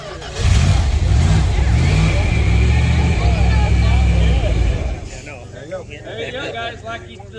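An old car engine, found on an abandoned dairy farm, starts and runs with a loud, rough idle for several seconds, then shuts off, with people talking around it.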